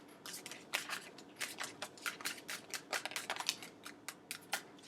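Tarot cards being shuffled in quick, crisp bursts, a riffling rhythm repeated many times, close up with no talking.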